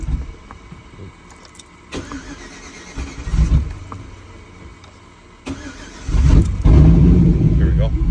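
A car engine with its AFM/DOD system deleted cranks and catches with a little throttle, loud and close, with a voice talking over the earlier part before the engine fires and settles into a rumbling idle.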